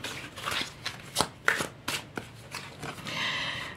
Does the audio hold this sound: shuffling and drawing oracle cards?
yes